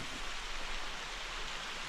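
Steady rain falling on a hiking trail in the Ozarks, a soft, even hiss of drops with no voices, fairly faint and unbroken.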